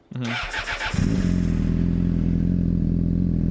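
A Honda CBR600RR sport bike cranks briefly, fires up, and settles into a loud, steady close idle with a rough, pulsing exhaust note.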